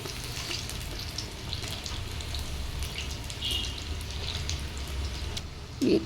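Sweet corn pakoras frying in hot oil and being turned now and then, giving a steady, moderately loud crackling sizzle with a brief clatter near the end.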